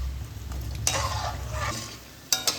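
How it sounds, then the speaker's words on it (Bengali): Sweet ripe-mango pitha fries in hot oil with a soft, steady sizzle, marked by a burst of scraping and two quick clinks of a utensil against the pan. "এইভাবে আমি সব পিঠেগুলো ভেজে নেব।"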